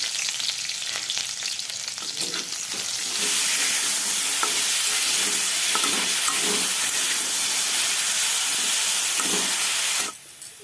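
Dry red chillies and chopped onion fry in hot oil for a Diwali home meal in Odisha, with a steady loud sizzle and hiss that swells after a few seconds and cuts off near the end.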